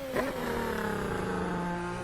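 Simulated F1 2025 race car at the Saudi Arabian Grand Prix in a video game, engine note climbing steadily as it accelerates away at the start of a qualifying lap, loud and continuous with layered harmonic whine.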